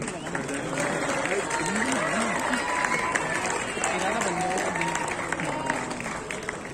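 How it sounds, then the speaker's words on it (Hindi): Steady audience applause and crowd noise at a masters-category Arnold Classic North India 2022 bodybuilding competition in Jaipur, continuous clapping under loud overlapping voices and a shouting announcer. "तालियां बजती रहनी चाहिए भाई"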